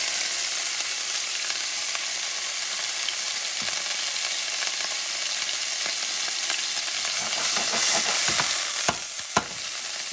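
Sofrito sizzles steadily in hot oil in a pan, giving a bright, continuous frying hiss with a few sharp clicks and scrapes of stirring near the end.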